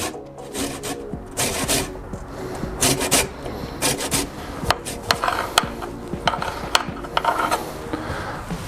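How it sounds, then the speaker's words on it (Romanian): Two limes being grated for zest on a kitchen grater, giving repeated scratchy rasping strokes in an irregular rhythm, close and moderately loud with no talk. "acum urmează să radem lime-ul. Am 2 bucăți de lime și o să le rad."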